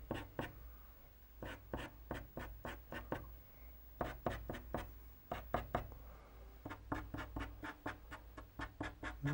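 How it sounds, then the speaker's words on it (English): Pastel strokes sketching fur lines on paper for a tiger drawing make quick, close scratchy taps in rhythmic clusters, soft and with no talking. "Just sketch a few lines to suggest the fur"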